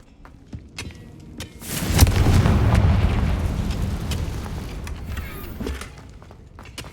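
A Confringo spell from Hogwarts Legacy bursts in a single swelling fiery explosion that rumbles and fades over a few seconds, with light clicks and footsteps around it.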